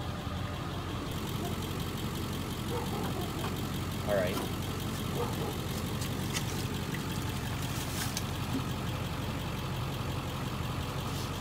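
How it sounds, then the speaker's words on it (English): The engine of a 1970s RV cranks steadily during a cylinder compression test with the throttle wide open, a continuous mid-level droning chug with a person talking over it. "Throttle's wide open, cranking."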